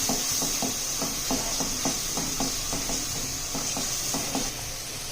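Ground spices, red chili, coriander and salt fry in a pan for aloo chicken, a close sizzling hiss over which a spoon knocks and scrapes in a quick, regular stirring rhythm.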